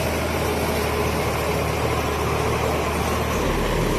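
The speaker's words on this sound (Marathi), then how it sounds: "फायनली ट्रॅक्टर चाललेलं आहे आता" A tractor loaded with sugarcane strains to pull out of mud, its engine giving a loud, steady, rumbling drone throughout with no pauses.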